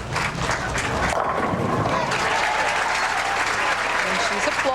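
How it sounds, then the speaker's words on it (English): Steady applause at a women's pro bowling match, the 2003 PWBA Memphis Open, follows a pin carry. It forms a dense, continuous wash of clapping under a commentator's voice. "she's applauding the pin carry there"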